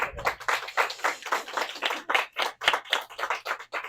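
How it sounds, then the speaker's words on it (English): A small classroom audience claps for a student's presentation, a run of uneven, close hand claps with no talking, fairly loud and continuing for several seconds. "give her a hand for that"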